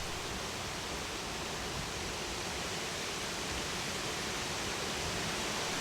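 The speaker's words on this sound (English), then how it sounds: "the harder the wind was blowing, and it really made the leaves rattle." Strong wind rattling dry autumn leaves along a creek in hilly country, a steady, dense rushing hiss like flowing water, loud and continuous throughout with no talk.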